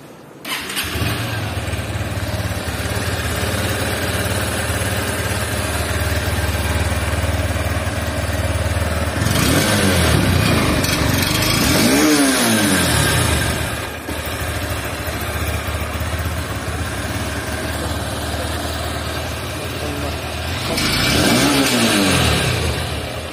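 A Honda Hornet 2.0 motorcycle starts, then idles steadily and loudly up close indoors, with two clear throttle revs rising and falling partway through and near the end.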